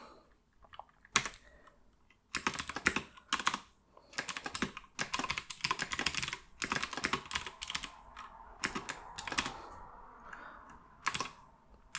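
Computer keyboard keys typed in quick irregular bursts during coding, close and fairly quiet, with short pauses between runs of keystrokes.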